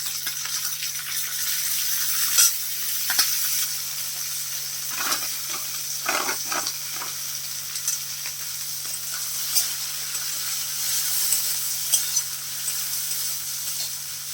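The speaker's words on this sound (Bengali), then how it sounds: "এইভাবে নাড়তে থাকবো পেঁয়াজ আর ডাঁড়া একসাথে যেন ভাজা ভাজা হয়ে যায়" Steady sizzle of onions and stalks frying in a pan, with intermittent scraping and clinks of a spoon stirring, close and continuous with no talk.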